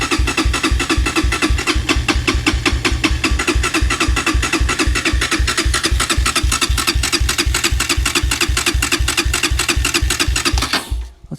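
A dirt bike engine with a carburetor being cleaned runs on choke, putting in fast, even pulses close to the microphone, then dies out abruptly at the very end.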